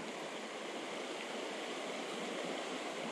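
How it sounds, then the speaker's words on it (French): A river running full and slightly tinted after a night of thunderstorms, its steady broadband rush of flowing water filling the scene evenly, close and continuous with no voices. "Là, on est dans une belle rivière."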